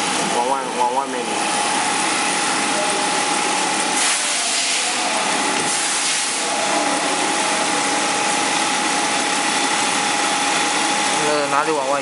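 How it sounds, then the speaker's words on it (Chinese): The grinding wheel of a computerized skiving machine sharpens its blade with a steady, continuous whine and hum that stays close and level throughout, while people talk over it. "那你砂轮打开了，你调一下，你往里面就砂轮就往里面，往外面来就靠着这个刀就磨刀"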